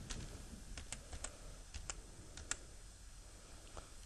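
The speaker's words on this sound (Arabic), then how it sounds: "انا هكتب مثلا هنا كده ايه، خليها بالعربي" Typing on a computer keyboard, with a string of faint, irregular key clicks under a steady background hiss and no talking.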